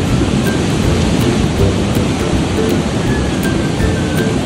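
Heavy rain pours steadily under a roaring rush of wind at a beach campsite in Palauig, Zambales, a dense, unbroken wash of noise close by.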